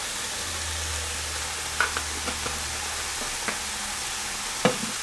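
Dried Italian seasonings stirred into a ground meat sauce sizzling in a pan, a steady soft frying hiss with a low hum beneath and a few light clinks and scrapes of the spoon.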